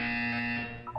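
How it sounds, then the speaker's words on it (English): A buzzer tone in the video game Portal 2, sounding as a steady electronic alarm-like drone with harmonics, loud and close, shifting pitch near its end. "When you hear the buzzer, look down at the floor."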